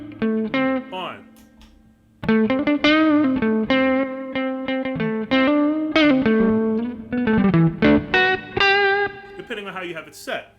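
An electric guitar played through a Tech 21 Fly Rig 5 multi-effects pedal with its hot boost engaged, giving loud, distorted, sustained chords and riffs that start after a brief pause.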